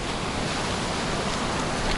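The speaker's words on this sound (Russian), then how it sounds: "Так, волна доходит аж до сюда периодами." Sea waves washing over a wide pebble beach in Adler, Sochi, heard as a steady, close, broadband rush of surf with no voices over it.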